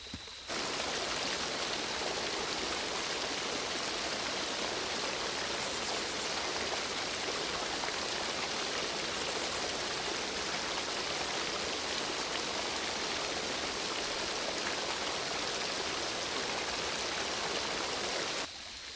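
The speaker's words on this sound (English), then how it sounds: "waterfall." Steady rushing roar of a waterfall, a dense broadband wash of falling water that holds constant and fairly loud, starting and stopping abruptly with nothing else heard.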